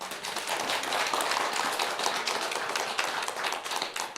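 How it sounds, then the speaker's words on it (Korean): Worshippers at a Buddhist temple mountain-spirit prayer service clap together, a dense, steady burst of hand claps filling the room at close range for about four seconds. "박수 한번 쳐주세요"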